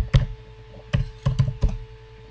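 Typing on a computer keyboard, five or six distinct close keystrokes in an uneven rhythm over a quiet background hum.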